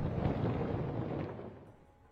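A cosmic explosion sound effect, a deep, rumbling, thunder-like blast that roars at full strength and then slowly fades over about two seconds, heard alone.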